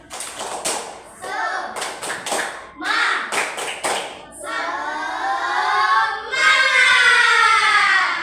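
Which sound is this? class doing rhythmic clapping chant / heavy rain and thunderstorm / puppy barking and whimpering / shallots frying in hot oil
class doing rhythmic clapping chant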